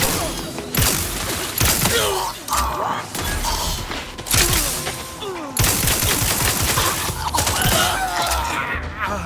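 Gunfire from the video game The Outer Worlds 2 rattles in dense, loud bursts of rapid shots with mechanical clanks, nearly continuous across the stretch in the thick of combat.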